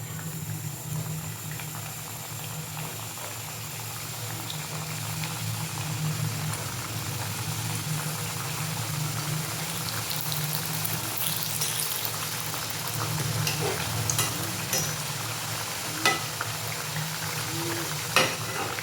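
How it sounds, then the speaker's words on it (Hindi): Chandrakala sweets deep-fry in hot refined oil, giving a steady low bubbling fizz that holds evenly throughout, with a few faint clicks near the end. "तेल हमारा एकदम अच्छे से गरम हो गया है। अब हम इसे फ्राई करते हैं।"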